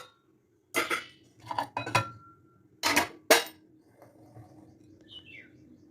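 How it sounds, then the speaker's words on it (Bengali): A plastic lid comes off a curd container in a few sharp clicks and clattery knocks, close and fairly loud, separated by quiet pauses and followed by softer handling sounds. "আমি এবার দইয়ের ঢাকনাটা খুলে দেবো।"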